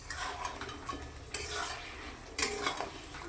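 Mutton with spices being stirred and sautéed in a pan, a steady sizzle broken by scraping strokes of a utensil, with a sharper clatter near the end.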